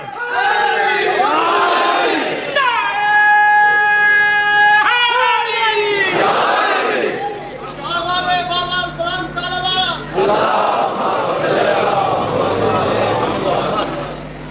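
Crowd at a Shia religious gathering chanting a slogan in unison, loud sustained voiced calls in repeated waves, one leader's call answered by the mass, rising and falling over several seconds.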